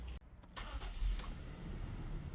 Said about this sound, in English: Drives really good. Starts up right away.